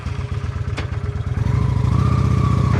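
Honda Shadow 750 motorcycle engine running steadily up close, a continuous low rumble with a rhythmic pulse that grows slightly louder partway through, and no talking.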